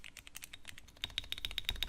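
Mechanical key presses on a budget custom-built keyboard, a steady run of crisp, close clicks and clacks in quick, uneven rhythm, louder and denser in the second half, with no talking.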